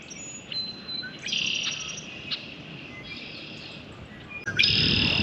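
Birds singing in a marshland beside water: several close chirps and trills come in overlapping bursts, with a louder call at the end, over a quiet background.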